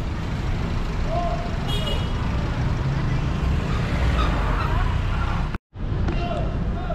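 Angkot minibuses and other vehicles roll through busy Palembang street traffic near the Ampera Bridge, a continuous rumbling wash of engines with distant chatter, broken by one brief moment of total silence near the end.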